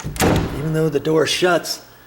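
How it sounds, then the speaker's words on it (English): A door that does not close fully thuds shut against its frame at close range, followed by someone talking. "See, the door's not closing all the way up there"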